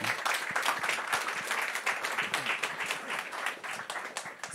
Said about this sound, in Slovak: Ďakujem veľmi pekne a ešte veľký potlesk pre Martina.